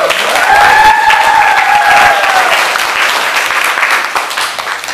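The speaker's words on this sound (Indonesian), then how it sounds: "Oke, tepuk tangan semuanya." Students applaud in a high school class, a dense wash of clapping from a group that holds steady and then slowly thins, with a faint voice or tone in the background early on.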